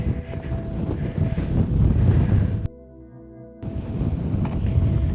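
Wind gusts hard across a hilltop on Hacha Grande in Lanzarote, roaring and buffeting a nearby microphone with a brief quieter lull midway before the blustering resumes.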